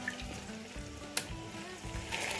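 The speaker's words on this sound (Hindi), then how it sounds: "उसी में चिकन डाल दिया मैंने 1 किलो। इसे फ्राई करेंगे।" A kilo of chicken frying in the oil left from frying onions for chicken korma, with a faint, steady sizzle and bubbling, a couple of soft stirring knocks, and one brief sharp tap.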